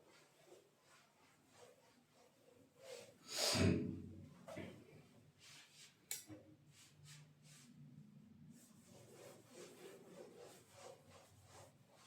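A duster rubs writing off a classroom board in long scraping strokes, one louder sweep and then steady softer rubbing, close by and with no talking.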